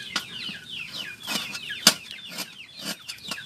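Chickens cluck repeatedly in quick, uneven bursts close by, with one sharp louder squawk partway through and no talking.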